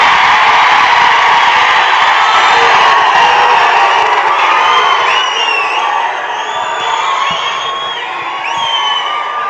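An audience at a Kannada stage event greets a speaker with loud, sustained applause, cheering and scattered whoops. The dense crowd roar stays strong throughout and eases slightly toward the end.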